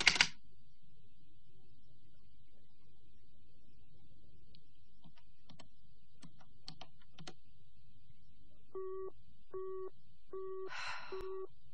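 A telephone busy signal beeps in short, evenly spaced pulses, preceded by faint clicks and a quiet line hiss.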